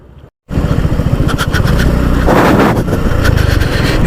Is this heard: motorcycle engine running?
yes